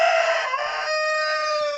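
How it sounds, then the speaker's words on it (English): A rooster crows loudly and close by, one long drawn-out call with a strained, ringing tone that holds steady to the end. "I'm sorry, I have too many roosters right now."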